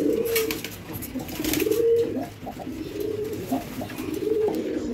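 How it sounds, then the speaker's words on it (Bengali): Male pigeon puffed up and cooing inside a pigeon house, repeated low throaty coos close by in an uneven rhythm, with faint background noise and no talking. "লাল মিয়া আর লাল বিবির পাশাপাশি এদিকে দেখুন এই নরটাও কিন্তু ফুলে বসে আছে, মানে সেও ডাকাডাকি করতেছে।"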